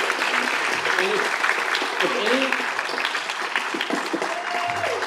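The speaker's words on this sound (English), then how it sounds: "Just by a smattering of applause" Steady applause from a convention panel audience at San Diego Comic-Con 2023 fills the whole stretch, with faint voices and a few whoops mixed in.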